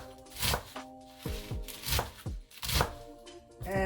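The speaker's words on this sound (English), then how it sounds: "I'm just in no particular order chopping this kale" Kale chopped by hand with a knife: about half a dozen irregular, fairly close thunking cuts over a few seconds, with no voices.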